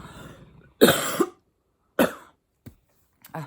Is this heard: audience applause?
no